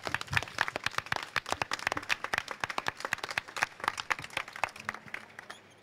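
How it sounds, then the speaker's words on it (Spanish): An audience at a climbing competition claps steadily for several seconds, a dense patter of individual hand claps at moderate distance with no voices. "Un aplauso para ellos."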